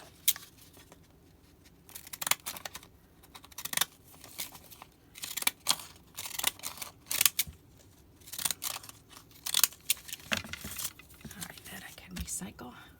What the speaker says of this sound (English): Where are my funky scissors?